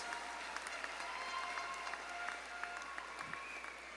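Graduates at the Elmore Stoutt High School graduation ceremony are applauded by the audience, heard as faint, distant, steady clapping with a thin tonal hum running underneath.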